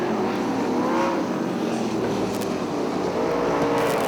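Sprint race cars roar around the dirt oval at Fremont Speedway, a loud, continuous engine drone holding steady throughout with no pauses.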